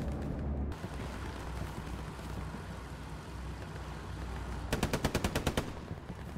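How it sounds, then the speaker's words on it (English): Rapid machine gun bursts in Hell Let Loose, a sustained rattling barrage with a louder, evenly spaced volley of sharp shots near the end, over continuous battlefield rumble. "It's machine gun."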